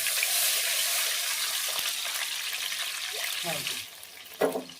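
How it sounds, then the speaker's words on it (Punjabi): Water from a glass splashes into a hot pan with jaggery and spices, a brief pour followed by steady sizzling and bubbling that dies down as the water settles, with a soft clatter near the end. "ਜਿਹੜਾ ਆਪਾਂ ਗੁੜ ਲਿਆ ਸੀ ਵਿੱਚ ਹੀ ਪਾ ਲਿਆ ਉਹ ਹੁਣ ਇੱਕ ਗਲਾਸ ਪਾਣੀ ਦਾ ਪਾਉਣਾ ਇਹਦੇ ਵਿੱਚ"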